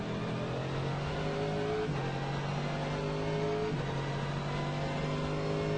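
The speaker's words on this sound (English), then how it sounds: "Pit speed limiter off, fire it up, crank it up, away you go" Race car engine on an out lap at the Rolex 24 at Daytona, a steady loud high-revving drone with harmonic whine, rising through gears with brief shifts roughly every two seconds, continuous and close throughout.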